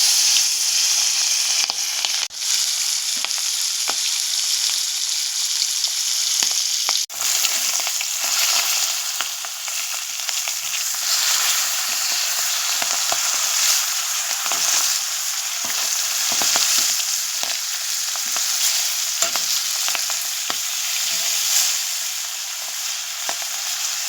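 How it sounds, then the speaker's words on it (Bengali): River bata fish fry in hot oil with a continuous bright sizzle and hiss, loud and close, broken by occasional clicks and stirring knocks. "এবারে আমি গরম তেলে মাছগুলোকে ভেজে নেব।"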